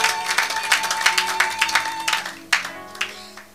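A church congregation applauds together, a dense sustained patter of many hands clapping with rhythmic surges, fairly loud and close, dropping briefly before a final burst.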